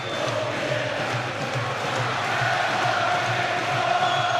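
Boxing crowd roaring and cheering for Ricky Hatton in his fight against Vyacheslav Senchenko, a dense, steady wall of arena noise with whoops and shouts, loud and continuous throughout.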